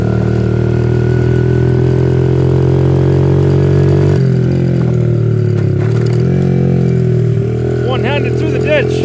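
Small motorcycle engine lugging up a hill, a steady low droning chug close to the microphone, with wind noise and a few brief squeaky sounds near the end.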